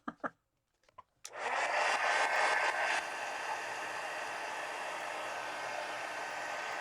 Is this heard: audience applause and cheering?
no